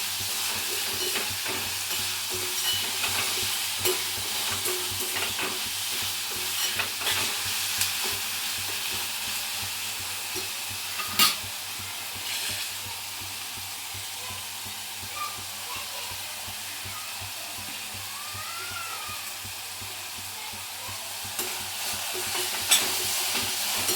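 Onion fries with a little salt in a pan for tilkut gavar, giving a steady, close sizzle and hiss broken by repeated stirring scrapes and an occasional louder clack.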